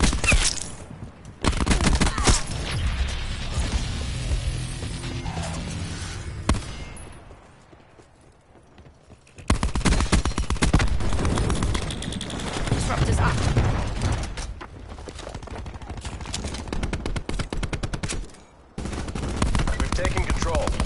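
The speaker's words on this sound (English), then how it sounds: "Sniper firing." Gunfire in Call of Duty Black Ops 4 from a sniper and other weapons, rapid loud bursts and volleys across the scene, with brief lulls between the barrages.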